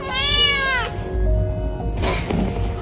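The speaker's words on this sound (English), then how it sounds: "It's like the chirping meow." A kitten gives a chirping, trilled meow and then a second shorter cry, close and clear in a quiet indoor room.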